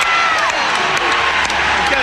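A crowd at a Hong Kong horse race cheers and applauds in a dense, loud, steady wash of voices and clapping.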